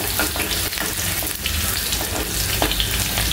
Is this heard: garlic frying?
yes